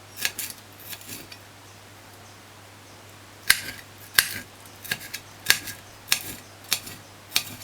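A knife dicing pepper on a cutting board: a few light taps, then a run of sharp, evenly spaced chops close by, with no talking.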